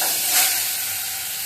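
Mango pieces dropped into hot oil with tempering spices in a pan, giving a loud, steady hissing sizzle that swells briefly near the start and then settles, with no talking.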